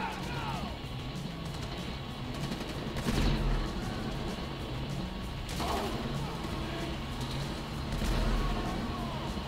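Video game gunfire in GTA 5 story mode crackles in repeated bursts over a dense, noisy game soundscape, with louder volleys at intervals.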